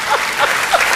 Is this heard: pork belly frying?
no